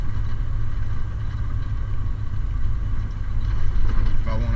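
A semi truck engine drones steadily and loudly from inside the cab as the driver float-shifts up through the gears, with the engine tone rising slightly near the end.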